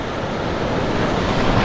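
Roaring sea surf and wind buffeting a small fishing boat as a big wave rolls in, a loud continuous broadband wash close to the microphone with no talk.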